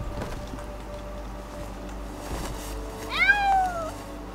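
A cat meows several times in the video game Shadowside, a short rising and falling call near the end, fairly close and clear over a low ambient background.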